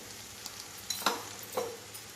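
Coriander and cumin powder stirred into a pan of potato curry: a soft background sizzle broken by a few sharp scrapes and clinks of a spoon against the pan, no voices.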